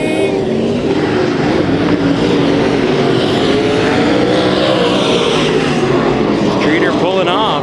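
Race cars roar around the Kings Speedway dirt track during a heat race, loud engines rising and falling continuously as cars slide through the corners, with an announcer talking over the din.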